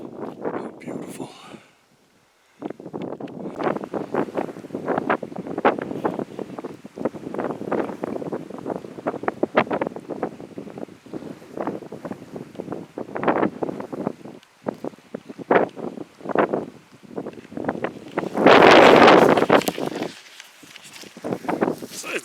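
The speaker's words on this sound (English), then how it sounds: "It's very windy up by the pond." Wind gusting by a pond, a steady rushing broadband noise buffeting the microphone throughout, rising to a strong blast near the end, with faint footsteps or rustling underneath.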